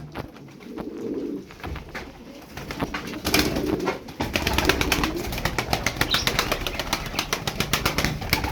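Pigeons coo softly at close range while wings flap in rapid bursts, with the flapping growing busier and more continuous toward the end.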